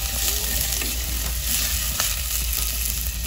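Ginger fries in a pan as the first step of a saucy mussels dish, a steady loud sizzle with a few faint stirring clicks and no talk.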